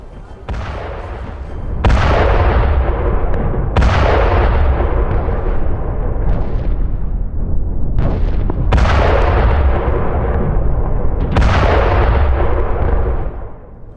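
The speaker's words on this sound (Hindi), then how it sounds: "आज इजराइल की ओर से हिजबुल्लाह के कई अड्डों पर एयर स्ट्राइक की गई। इसका वीडियो भी IDF ने जारी किया।" Israeli air strikes hit Hezbollah bases with a rapid series of heavy, booming explosions, roughly seven blasts over a continuous loud rumble, each striking sharply and then rolling away.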